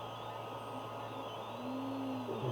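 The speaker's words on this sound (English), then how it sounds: "if you hear that noise in the background, that's my 3D printer" A 3D printer prints drone ducts in the background, a faint steady mechanical hum with a soft rising motor whine near the end.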